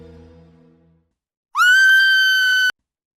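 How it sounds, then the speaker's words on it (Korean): A sudden piercing scream rings out alone, sustained and loud for about a second before cutting off, after a brief low tone fades to silence. "비명이 집 안에 메아리 쳤다."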